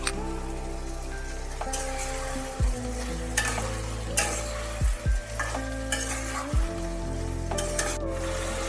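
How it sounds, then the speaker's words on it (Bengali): Jackfruit curry with potatoes is sautéed and stirred in a pan over a steady sizzle, with several sharp knocks and scrapes as the spoon moves through the mixture. A low, even hum runs underneath. "আলু দিয়ে ভালো করে একটু কষিয়ে নিতে হবে।"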